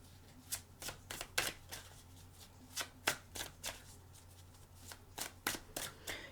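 Tarot cards shuffled by hand in a series of short, crisp riffling bursts in an uneven rhythm, close and moderately loud with no talking.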